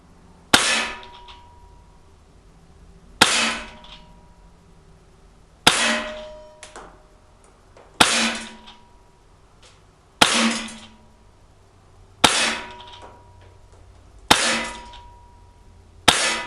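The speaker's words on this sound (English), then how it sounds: "so far this gun is shooting really, really well. Nice blowback" Sig Sauer P320 CO2 blowback .177 pellet pistol fired outdoors, eight sharp metallic cracks spaced roughly two seconds apart, each with a short clattering decay, close and loud with no talk.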